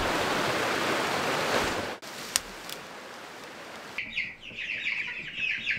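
Chickens raised in the Rocky Mountains cluck in short, repeated bursts near the end, after a stretch of loud, steady rushing noise that cuts off abruptly.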